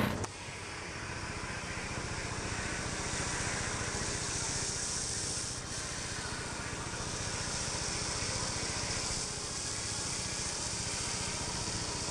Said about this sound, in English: I'm going to use my polisher so I can take advantage of the diminishing abrasives that this polish has in it.